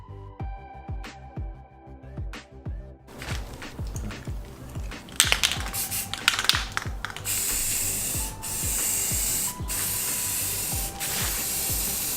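Primer sprayed onto a cracked Honda S2000 bumper during a DIY repair, a steady close hiss that builds and runs continuously through the later part, with faint clicks and mechanical ticks underneath and no talking.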